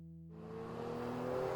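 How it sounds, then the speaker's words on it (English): A black muscle car tears away down an empty road, its engine rising from a low idle hum into a loud, strained roar that builds steadily as it speeds off. "a black muscle car streaked away down the empty road"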